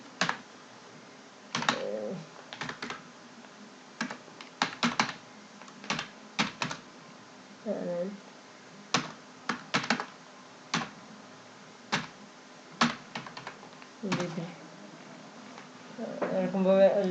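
Fingers type a college name on a computer keyboard in short, irregular bursts of close, crisp key clicks separated by pauses, while a person talks quietly through parts of it.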